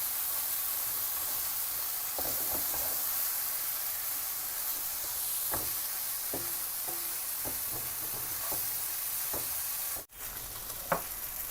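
Chicken sizzling and frying in oil in a pan for a Pakistani haleem dish, a steady close hiss with scattered pops, stirring clicks and a brief utensil knock near the end.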